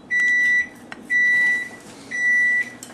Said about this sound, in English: and turn the timer off.